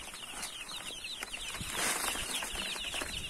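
Young naked-neck chicks, about eight days old, being let out of a box at a farm, giving continuous high overlapping peeps with some light fluttering and rustling, fairly faint and without talk.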